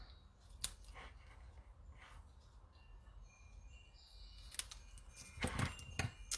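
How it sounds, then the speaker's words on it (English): Paper snips cut through cardstock while a landscape window card is being made: a few sharp, close snipping clicks spaced apart, clustering toward the end over a quiet background. "So I'm grab my paper snips. So just going to snip it."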